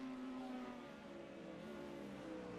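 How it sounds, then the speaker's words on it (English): Race cars, Mustangs among them, drone along in a GT sprint series sim racing game, a steady layered engine whine with several cars close together, fairly quiet and with no voices. "I love the sound of race cars."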